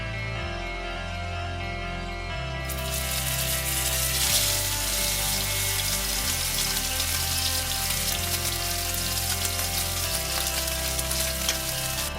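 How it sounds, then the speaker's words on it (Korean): A steak searing in a frying pan of preheated, lightly smoking oil: a loud, dense, continuous sizzle that starts abruptly and holds steady and close, over a faint tonal background. "고기 표면을 키친타올로 살짝 닦아 물기를 제거한 후에 팬에 올려줍니다"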